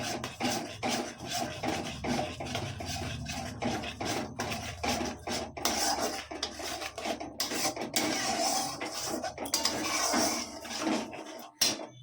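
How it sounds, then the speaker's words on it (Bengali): Paneer butter masala in a pan on low gas is stirred right after yogurt goes in, with a spoon scraping the pan in repeated close strokes over a soft, steady cooking hiss. No one speaks. "দইটা দেওয়ার সঙ্গে সঙ্গে নাড়াবেন"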